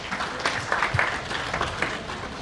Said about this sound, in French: On va également applaudir pour eux et elles.